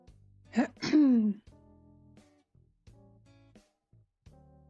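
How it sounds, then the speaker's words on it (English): A person clears their throat once with a short, harsh rasp close to the microphone, followed by quiet background sounds. "If I'm clearing my throat"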